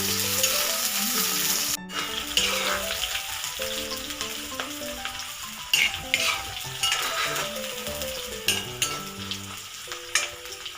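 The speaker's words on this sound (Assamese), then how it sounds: "পিঁয়াজটো অকণমান ব্ৰাউন হ'ব লাগিব, নহ'লে এইটো কেঁচা কেঁচাই হৈ থাকিব।" Chopped onion fries in oil until browning, a continuous crackling sizzle with occasional clinks of a spoon against the pan as it is stirred, music running beneath.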